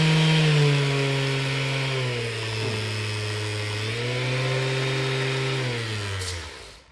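A dual action sander running, a loud steady motor whine that dips in pitch partway through and winds down to a stop at the end.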